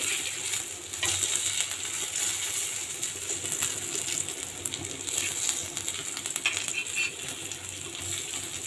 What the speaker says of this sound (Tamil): திருப்பி போட்டோம்னா அந்த கருவேப்பிலையெல்லாம் நல்லா மொறுமொறுன்னு பொரிஞ்சிடும்.